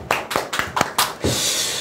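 A handful of distinct, sharp hand claps from an audience, about five spaced beats close by, followed by a brief wash of louder continuous clapping at the end.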